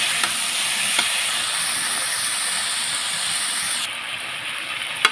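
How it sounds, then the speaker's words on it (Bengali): Vegetables with pui, dumuli and dried shrimp sautéed in spice paste in a pan for a chorchori, a loud, even hissing sizzle that steadies, with a couple of faint utensil clicks. "দিয়ে এবার ভালো করে সুন্দর করে কষিয়ে নেব।"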